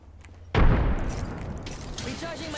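A frag grenade blows up in Apex Legends with a sudden loud boom that rolls into a debris-filled rumble, and gunfire crackles faintly afterward.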